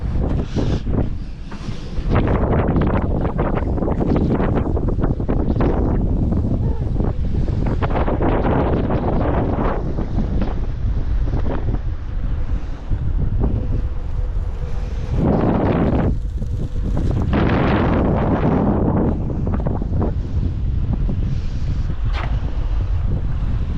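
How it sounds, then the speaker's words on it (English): Strong wind roars continuously across the microphone on a sailboat under sail in the Whitsundays, with sustained loud buffeting gusts and no let-up. "Sometimes the wind gets that strong, it feels like it's going to tear it apart"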